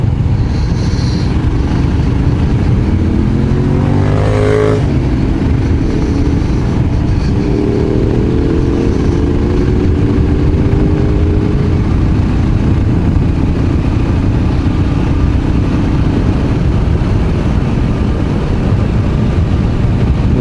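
A Royal Enfield Scram 411 motorcycle riding along a wine-route country road, a constant loud engine drone mixed with heavy wind rush, with a rising and falling tone as the revs shift.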